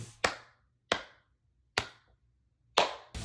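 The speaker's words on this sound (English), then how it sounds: "round of applause" Five sharp, well-spaced claps ring out alone in a quiet room, more like a slow handful of hand claps than a crowd's applause.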